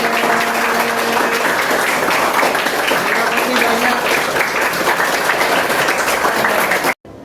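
Sustained applause and hand clapping from a group of teachers in a school setting, steady and dense for several seconds before cutting off abruptly near the end.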